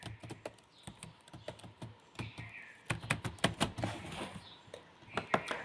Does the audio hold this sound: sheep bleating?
no